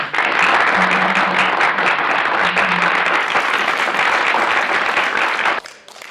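An indoor audience at a Korean filial-piety instructor selection event claps loudly and steadily for several seconds before the applause tapers off abruptly.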